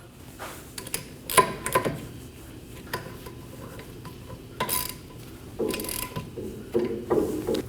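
A Kia Optima rear hub assembly has its bolts run down snug with a ratchet, giving quick bursts of close clicking and metallic rattling with short pauses between pulls.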